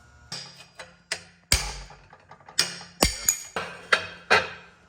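Sharp metallic hammer blows strike a wheel bearing outer race on a 2017 Honda Rancher ATV, about a dozen uneven hits, some in quick pairs, close and ringing with no speech.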